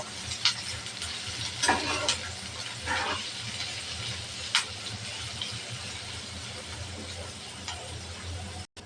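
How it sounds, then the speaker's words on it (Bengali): Chopped onion and chilli frying in hot oil for fish curry, a steady close sizzle with a few scraping stirs of a spatula throughout, no talking. "তেল দিয়ে দেব পেঁয়াজ কুচি আর মরিচ কুচি পেঁয়াজটা ভালোভাবে ভেজে নেব"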